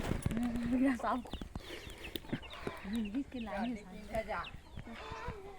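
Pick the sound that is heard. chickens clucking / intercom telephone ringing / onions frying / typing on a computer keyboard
chickens clucking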